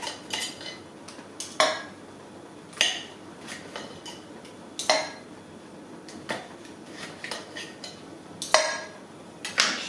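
Knife chopping food on a cutting board in a home kitchen, likely ingredients for toad in the hole: a dozen sharp, irregular knocks with gaps between them, close and clear against quiet room noise, with no talking.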